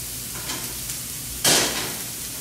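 A pat of butter dropped into a hot pan with garlic bursts into a loud close sizzle partway through, following light stirring scrapes, then settles into a steady fry.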